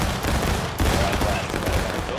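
Soldiers fire a musket volley in the War of Rights video game, a loud, ragged burst of gunfire with several shots piling together over about two seconds, under shouted orders.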